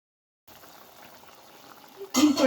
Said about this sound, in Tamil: மீன் குழம்பு கொதிச்சிருச்சு.